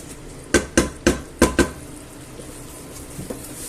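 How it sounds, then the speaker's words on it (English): A spoon clanks against a pan of simmering clam sauce in a quick run of five sharp knocks, then a couple of softer taps over a faint bubbling background. "I'll keep stirring it about so that it doesn't stick."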